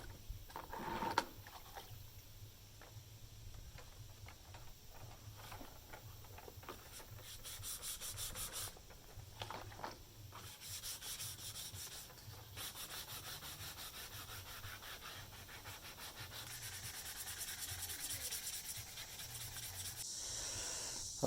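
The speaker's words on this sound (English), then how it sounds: "So I did some manual sanding with the 220." Quiet, steady rubbing and scratching of hand wet sanding dirt bike plastic with 220-grit sandpaper, continuing in irregular strokes for a long stretch with no talk.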